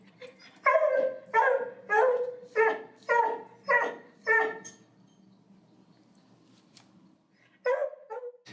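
Dogs at an animal shelter bark in a quick run of about six loud, evenly spaced barks, then fall quiet before a final short bark near the end.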